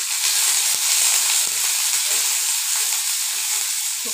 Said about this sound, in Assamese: শুকান জলকীয়াখিনি ফ্ৰাই কৰি ল'ম।